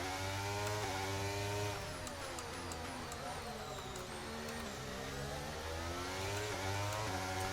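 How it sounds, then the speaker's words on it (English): A high-revving Formula 1 car engine in the F1 23 video game at the Azerbaijan Grand Prix whines continuously, its pitch sweeping up and down through gear changes, loud and close, with no other sounds. "I don't think that sound that the engine makes is very healthy though."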